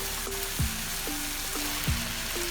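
Okra (bhindi) sizzles in a hot pan while cooking with mince, a steady hissing fry running throughout under soft background music tones.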